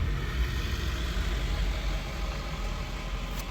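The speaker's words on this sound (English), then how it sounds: "Sorry about all the traffic." Steady traffic rumbles outside a busy Dairy Queen drive-thru, a continuous low engine drone of cars and idling vehicles heard from inside a parked car, with no talking.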